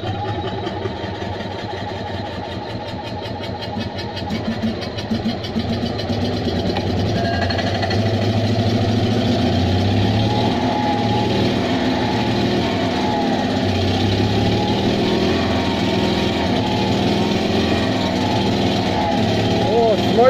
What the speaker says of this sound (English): I've had the engine spinning over and we've managed to draw a bit of fuel in. So let's see if this time we can get it to start.